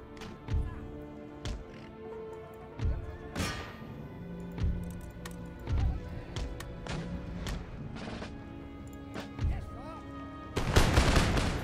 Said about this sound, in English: Fire a few parting shots into the Bosniaks.